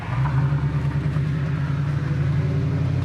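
A 1967 Camaro RS with a 400 engine warming up at idle, giving a steady, close, low rumble that holds even throughout, with no voices.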